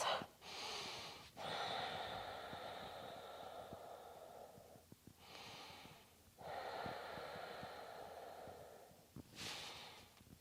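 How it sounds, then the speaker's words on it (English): Slow, deep nasal breathing during a gentle hatha yoga flow, with long drawn inhales and exhales repeating in a calm, close rhythm, no talking. "Deep breaths."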